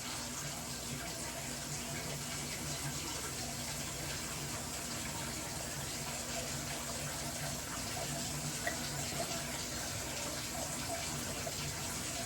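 Filtered tap water running steadily from a faucet in a home kitchen, a continuous, moderately close gushing stream that holds an even level for the whole stretch, with no voices over it.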